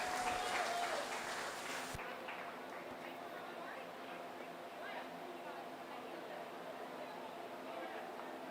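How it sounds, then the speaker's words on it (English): Audience applause at a 4-H county fair rabbit show, a steady wash of clapping that carries through the whole stretch, with crowd chatter mixed underneath. "Let's give her one more big round of applause."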